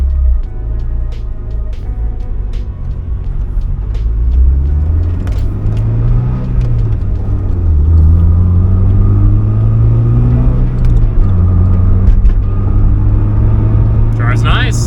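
A turbocharged daily driver car cruises with a steady low engine rumble and gentle rises and falls in revs through gear changes, heard from inside the cabin.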